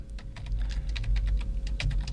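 Fingers type rapidly on a computer keyboard, producing a dense run of close, crisp key clicks over a low steady hum.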